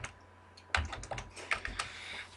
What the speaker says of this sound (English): I'm going to type in www.twitter.com.